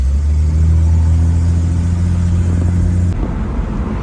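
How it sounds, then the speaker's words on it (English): A classic car's engine rumbles loudly and steadily while driving, a continuous mid-pitched drone with a slight rev, heard close and alone. "So yeah, now we just get to drive the car."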